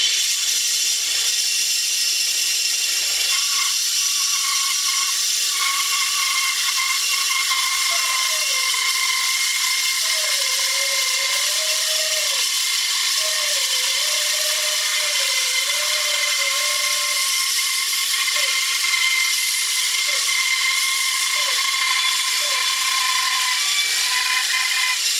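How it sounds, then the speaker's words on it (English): Bandsaw with its table tilted to match the angle of a check, sawing along the crack in a piece of wood: a steady high whine runs throughout, with a faint wavering tone rising and dipping as the blade cuts, and no talk. "Let's go bandsaw and see what happens."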